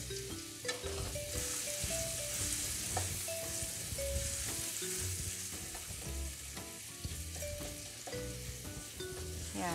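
Garlic sizzles and spatters steadily in hot oil, with occasional scraping stirs of a utensil against the pan and soft music playing underneath.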